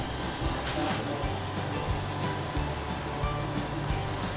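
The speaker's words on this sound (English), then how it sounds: "start airbrushing it." Airbrush spraying brown coloring onto a horse-shaped cake, a continuous close hiss with a steady compressor-like hum underneath, no clear talking.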